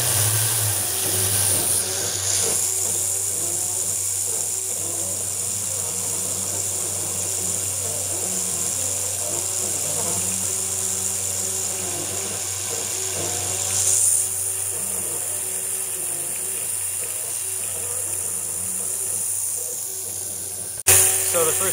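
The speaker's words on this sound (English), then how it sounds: "right now I'm doing what's called linear 3D machining, where it's just going left, right, left, right, left, right, doing perfect horizontal lines" A CNC mill cutting back-and-forth horizontal passes in linear 3D machining for engraving titanium, giving a steady mechanical whine and hum with faint tonal cutting noise, a sharp click near the end, and no talk heard.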